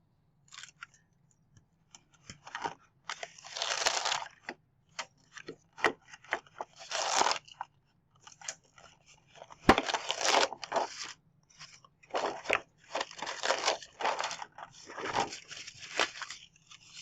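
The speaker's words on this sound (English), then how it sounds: "you can pull the core strips right off the mat" Paper core strips peeled off a cutting machine mat, a series of close, quiet tearing and crackling rips in short bursts with pauses between, no talking.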